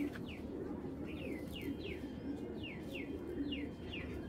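A sapchila napta female pigeon, with a series of about nine short, thin, downward-sliding chirps or calls in steady succession over a dense, noisy background.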